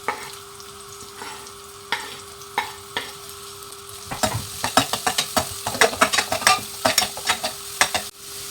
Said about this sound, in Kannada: ಮೊದಲಿಗೆ ಒಂದು ಕಡಾಯಿನ ಇಟ್ಟು ಕಡಾಯಿ ಬಿಸಿ ಆದಮೇಲೆ ಸ್ವಲ್ಪ ಎಣ್ಣೆ, ಉದ್ದಿನಬೇಳೆ